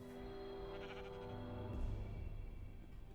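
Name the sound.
pink sheep bleating in the video game Minecraft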